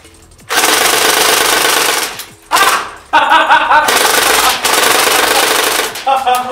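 Tokyo Marui high-cycle AUG airsoft rifle on a 9.6 volt battery fires loud, rapid full-auto bursts of mechanical buzzing, a long burst, a short one, then sustained firing with brief pauses.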